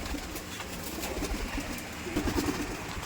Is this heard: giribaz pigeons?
yes